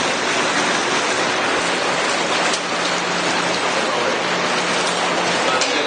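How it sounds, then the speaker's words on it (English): Water spills and trickles steadily into the grow beds of a commercial-scale aquaponics system at a university facility, a continuous near, rain-like wash with no pauses. "The water comes over to our grow beds"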